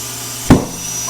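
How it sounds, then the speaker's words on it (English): A large 38-inch tire seats onto a Vision F-Manx bead lock wheel with a single sharp, loud pop midway through, standing out against a faint background hiss. "So let's go ahead and seat the bead."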